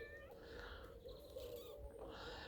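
A cat meows faintly in an urban vegetable garden, the call partly buried under steady outdoor background noise.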